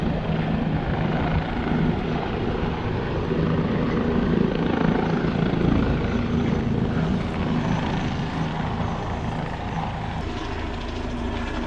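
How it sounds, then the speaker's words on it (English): A helicopter taking off from a large boat's deck roars steadily at moderate distance, rotor and engine a continuous dense whir with no pauses. "And the helicopter's about to take off."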